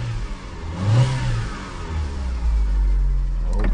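A Fiat Panda 100hp under restoration revs briefly, a mid-pitched engine rising in one short surge before settling to a steady idle rumble, close by with no talking.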